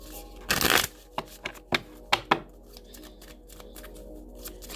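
Playing cards shuffled for a spiritual card reading: one loud riffling burst, then several short, crisp flicks and snaps, close up with no talking.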